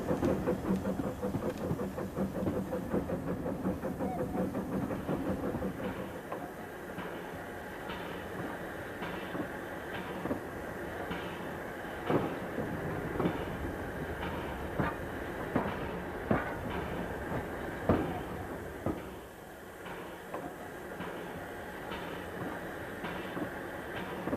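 A small model steam locomotive pulling a train of 4- and 6-wheeled LB&SCR coaches rolls steadily along the track, a low rumble with rhythmic clicking wheel joints ticking past at intervals, fairly quiet and close.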